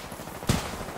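Gunfire in the Titanfall 2 video game: a short, fairly quiet burst near the middle of a brief moment, over low background noise.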